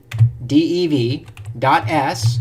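Quick keyboard typing clicks, close and light, entering a spreadsheet formula under a person speaking steadily.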